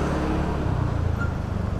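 Road traffic on a dusty, badly damaged road, a continuous dense rumble of passing vehicles and engines heard at close range, loud and without pause.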